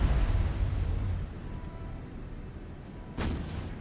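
Distant 8-inch naval gunfire in the War on the Sea video game, a rumbling burst that fades into low rolling noise before a single sharper report cracks near the end.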